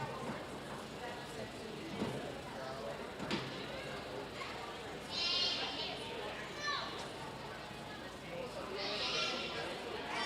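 Goats bleating at a county fair livestock show, several wavering calls rising over steady crowd chatter and an announcer's voice in a busy open-air barn.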